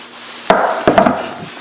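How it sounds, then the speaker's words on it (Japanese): A hammer strikes wood to press glued pieces together while a karin-wood table is being made: one sharp knock, then a second, then a quick double knock, all close and loud in a quiet workshop. "それでもいいし、ハンマーで叩いてもいいし。"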